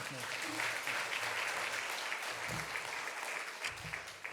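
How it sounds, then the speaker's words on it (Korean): A church congregation at a revival Bible conference applauds to welcome the pastor, a steady, fairly quiet wash of clapping that lasts throughout without pause. "박수로 환영하겠습니다."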